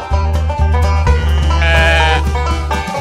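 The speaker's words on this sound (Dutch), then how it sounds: "Het dier op de puzzel is een schaap." A sheep bleats in a short, loud, wavering call that fills the moment alone, with a steady tonal backing underneath.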